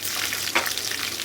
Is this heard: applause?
no